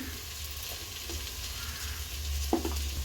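Beef and rice masala sizzling and frying in a pan while being stirred, a steady close crackle with occasional scraping clinks of the spoon against the pan.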